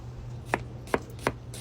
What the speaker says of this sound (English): got some sweet onion, a whole sweet onion. Slice it up as thin as you can